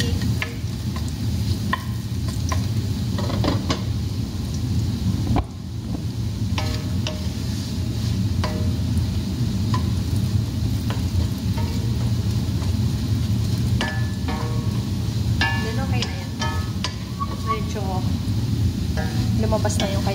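Garlic sizzles steadily in a pan alongside luncheon meat while a utensil stirs and scrapes at intervals. A constant frying hiss runs throughout, with occasional clinks over it.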